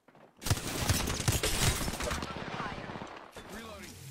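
Rapid automatic gunfire in the shooter Apex Legends, a dense burst of cracking shots up close followed by mechanical clicks and fading echoes.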